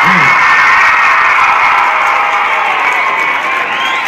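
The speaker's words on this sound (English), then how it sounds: "Give yourselves a big round of applause." A school audience at a Maragon Private School winter warmer concert bursts into loud, sustained applause with cheering and whoops, a dense continuous roar up close.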